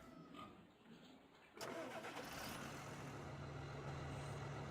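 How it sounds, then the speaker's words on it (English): A tractor engine in Farming Simulator 2013 cranks and catches abruptly, then settles into a steady, close mid-pitched idle. "Start this tractor."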